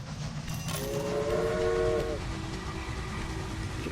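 A train in the Railway Empire video game runs with a steady rumble, and a clear multi-tone whistle sounds for about a second midway.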